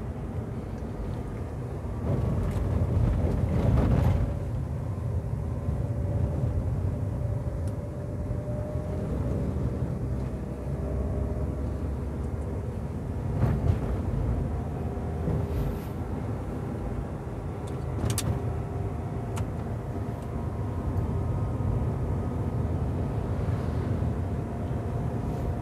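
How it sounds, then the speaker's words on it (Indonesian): A car engine labours steadily as the vehicle climbs a hill in third gear, a low continuous drone whose pitch rises gradually under acceleration, heard from inside the cabin with no one talking. "Ketika kita injak gas, RPM-nya masih naik, itu artinya mesin masih kuat."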